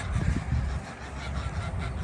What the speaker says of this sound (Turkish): bizim kazlarımız